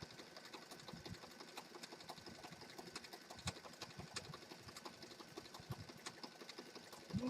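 A sewing machine runs a continuous zigzag stitch on a junk journal cover, a steady fast mechanical whir and rattle with regular needle knocks, fairly quiet and close, with no talking.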